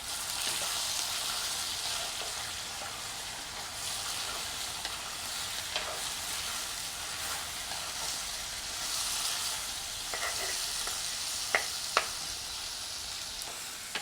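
Ripe tomatoes stirred and fried in hot oil for a fish curry give a steady, close sizzle with scattered light clicks and scrapes of stirring throughout, and no voices.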